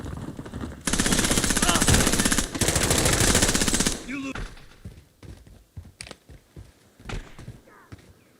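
Call of Duty Modern Warfare gunfire on Rebirth Island: a long, loud automatic burst of rapid shots, then scattered single shots and short bursts further off, with a player talking in between.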